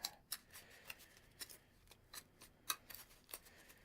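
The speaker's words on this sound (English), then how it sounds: "Alright, let's shuffle it up again." A deck of Yu-Gi-Oh! cards being shuffled by hand, giving soft, quick riffling snaps and flicks in irregular bursts, close but quiet, with no talking.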